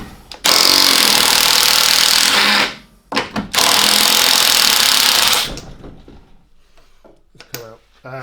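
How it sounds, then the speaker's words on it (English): Impact wrench removing a 22mm strut nut on a VW VR6 during a strut job: two loud, sustained rattling hammer bursts of about two and three seconds, close up, separated by a short pause and followed by quieter clunks of handling. "I'm just going to hit it with an impact, which should take it right off."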